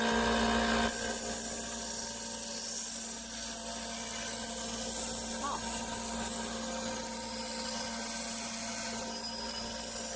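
Metal belt sander grinding a piece of metal that has green marker on it, producing a steady, continuous abrasive whir that stays loud and even throughout, with no gaps and no voices.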